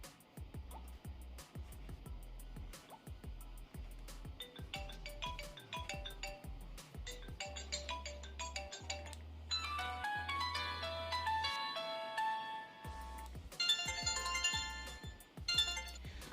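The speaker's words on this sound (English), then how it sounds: "there are 3 fixed ringtones for phone call and 2 for messages" Built-in ringtones from a tiny flip phone play one after another: a string of short, bright electronic melodies with steady beeping rhythms, fairly loud and close from the small speaker, with no talking.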